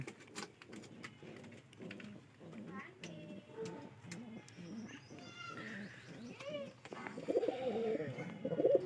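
Rajshahi Giribaz pigeons cooing in repeated soft, throaty pulses, close by, with a few higher calls and a louder burst of cooing near the end.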